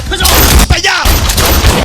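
Gunfire from a Kinyarwanda-narrated action film, a loud dense burst of shots filling the whole moment, with a short break partway through and a narrator's voice mixed in.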